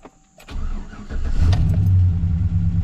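A Chevy truck that has sat unused for a couple of months cranks briefly and fires up, then settles into a loud, steady idle close by.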